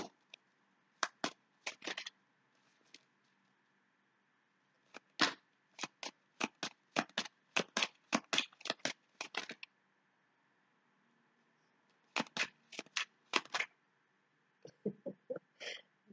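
Oracle cards being shuffled for a reading, heard as bursts of quick crisp riffling clicks in several groups separated by quiet pauses, close and fairly soft.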